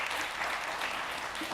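An audience at a regional internet registry member meeting applauds steadily to confirm an election result, a dense even wash of clapping filling the room throughout with no pauses.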